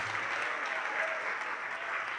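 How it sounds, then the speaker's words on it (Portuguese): A church congregation claps in steady, dense applause throughout, fairly loud and even, with no pause. "Vamos aplaudir ao Senhor Jesus por cada vida que está chegando"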